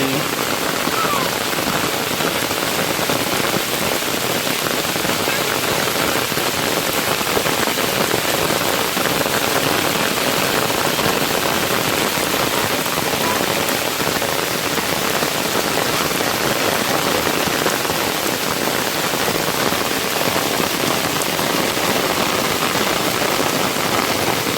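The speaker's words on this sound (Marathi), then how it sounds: "पाऊस बघ केवढा आला तो मोठा आला पाऊस" Heavy rain pours down without pause, a loud, dense hiss of drops beating on surfaces that holds steady for the whole stretch with no voices.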